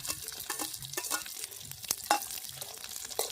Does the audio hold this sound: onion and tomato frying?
yes